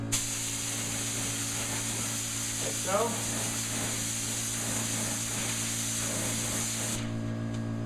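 Continuous hissing spray from a gravity-feed spray gun applying an antique white finish along kitchen cabinet edges, steady and close, with a brief spoken remark partway through before the hiss cuts off near the end.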